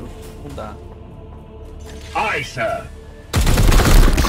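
Gunfire in the turn-based video game Warhammer 40k: Chaos Gate – Daemonhunters, a heavy loud volley bursting in near the end after quieter game effects, with someone speaking briefly over it.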